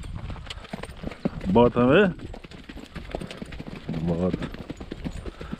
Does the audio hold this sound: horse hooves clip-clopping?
yes